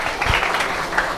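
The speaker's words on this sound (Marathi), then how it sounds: "म्हणून तुम्ही सर्वांनी जोरात टाळ्या वाजवून प्रभू येशूला धन्यवाद द्या." A prayer-meeting congregation at a church in Naigaon claps loudly together, a dense burst of hand claps lasting about a second with one low thump near the start.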